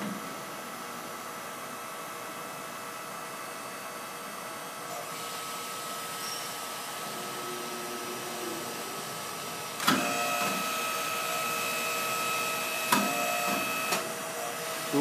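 Two 12-ton AIDE stamping presses run together in auto mode with clamp and transfer, giving a steady mechanical hum with sharp clanks near 10, 13 and 14 seconds.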